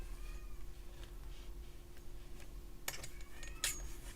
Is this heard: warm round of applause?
no